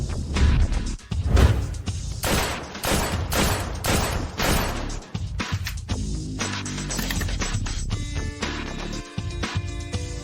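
Rapid volleys of gunshots ring out at a shooting competition where each shooter fires five rounds, sharp loud cracks crowding together in the first half, then thinning into sparser shots over a lingering ringing tone.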